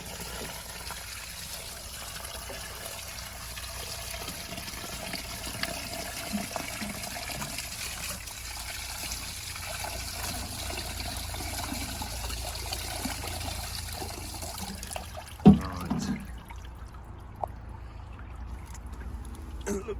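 Cold water poured in a steady rush over the dirty side of a K&N air filter from a Land Rover Freelander 2, a continuous close splashing trickle that tapers off near the end with a few small knocks.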